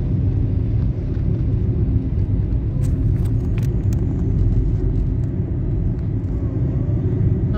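Rush hour traffic in Cebu: a dense, steady low rumble of many vehicles that continues without a break, with faint brief higher sounds drifting over it and no talking.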